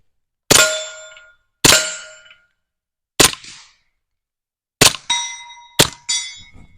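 A suppressed Stribog TR22 fires CCI subsonic .22 LR hollow points, six sharp, fairly quiet reports spaced irregularly, each with a brief metallic ringing tail.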